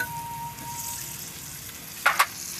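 Onions, Kashmiri chilli and tomatoes fry in a pan over a village clay stove, giving a soft, steady sizzle, then two quick, louder scraping clatters as the mixture is stirred near the end.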